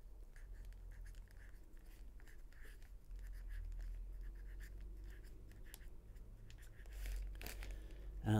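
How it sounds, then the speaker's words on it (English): A name is written onto a plastic bag of clematis seeds, a faint, close scratching and scribbling with soft crinkles of the plastic, which ends in a louder rustle. "Let me write on the bag the name."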